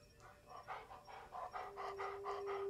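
A dog in the Blair Witch video game pants close by in quick, rhythmic breaths, about a dozen bursts in steady succession with no talking over it.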